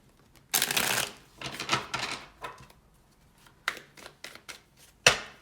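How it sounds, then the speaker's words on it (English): Close-up tarot card shuffling in several quick riffling bursts separated by short pauses, ending with a sharp snap. "Last shuffle."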